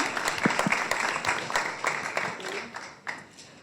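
A live audience applauds a departing panel at an evening talk on leading with purpose, clapping steadily at moderate distance for a few seconds and thinning out toward the end.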